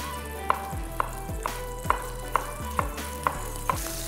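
Green chilies, ginger and spring onion whites fry in oil, a steady close sizzle broken by about eight evenly spaced sharp clicks of a utensil stirring the pan, with no voices.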